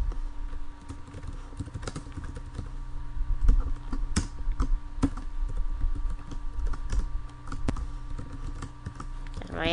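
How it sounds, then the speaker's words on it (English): HTML being typed on a computer keyboard in a code editor: rapid, uneven clicks and key taps run throughout at close range, with no talking. "I'm going to type some HTML in the code editor."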